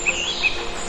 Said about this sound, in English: listening to the sound of birds chirping,